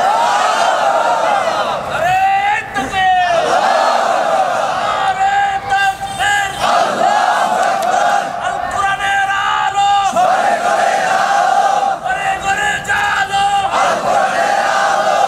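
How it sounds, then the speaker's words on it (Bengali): A large crowd at an Islamic religious gathering (mahfil) in Narsingdi, Bangladesh chants slogans in loud, repeated collective shouts, the roaring voices rising and falling in waves throughout. "এবার কারা কারা রাজি আছেন তারা দুই একটা স্লোগান দিয়ে আল্লাহর দেখান।"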